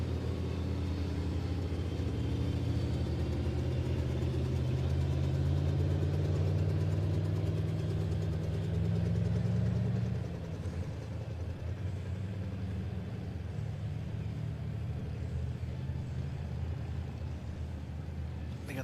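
Race cars circle an oval track slowly behind a pace car on a caution lap, a loud blended engine drone that swells for about ten seconds, then drops to a quieter, steady rumble as the pack moves away.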